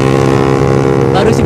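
A loud, steady engine drone with a strong harmonic hum from a Suzuki Satria F150 fuel-injected 150cc motorcycle running at speed, with a rising whine near the end.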